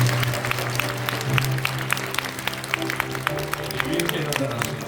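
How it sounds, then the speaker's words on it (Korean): Church congregation applauding at a pastor's installation service, a steady wash of clapping with an organ or keyboard chord sustained underneath throughout. "우리 박수로"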